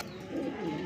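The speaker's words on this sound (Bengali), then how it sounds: "লালে লাল শাহজালালের মধ্যে একটা নর কবুতর, ব্ল্যাক কালারের মধ্যে মাদি কবুতর" A pigeon coos once, low and muffled, from a breeder's loft holding male and female pigeons, faint and short with no talking.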